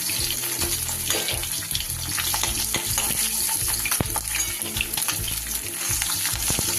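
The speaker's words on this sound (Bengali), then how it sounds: "একটু এপিট ওপিট করে ভেজে নিয়ে আমি তুলে নেব" Pieces of katla fish fry in hot oil, giving a continuous close sizzle with crackles and occasional scraping of the pan, no talking.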